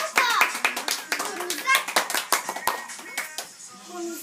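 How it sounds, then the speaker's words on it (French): Audience applause fills the clip at an outdoor garden-style event, dense claps rising and falling throughout, with a voice and chatter mixed in. "On fait les applaudir bien fort"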